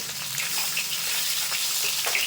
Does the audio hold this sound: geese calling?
no